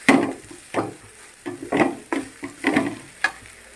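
Grated carrot and beetroot stir-fry in a pan with a soft sizzle as a spatula scrapes and turns them in a steady rhythm of about six strokes, close up and without talk.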